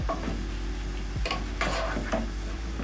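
Pork wet fry being stirred in a pan, a spoon scraping and rubbing through the thick mixture in repeated strokes over a low, steady sizzle, close and fairly quiet.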